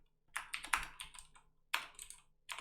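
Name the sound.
typing JavaScript code on a computer keyboard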